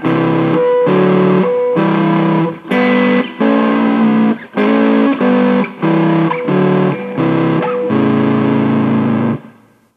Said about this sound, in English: You do hear this sound commonly where the root note is harmonized with a major third.